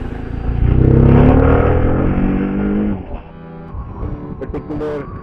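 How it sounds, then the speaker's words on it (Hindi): A vehicle comes up from behind on the Karakoram Highway, heard from a motorbike. A loud engine roar swells over the first few seconds and then eases into quieter road and wind noise. "पीछे से एक गाड़ी आ रही है"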